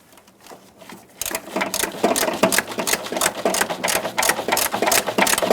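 Upper fender bolts on a 1997-2006 Jeep Wrangler being tightened, likely with a ratchet: a quiet start gives way to a fast, steady run of loud, close mechanical clicks with no talking.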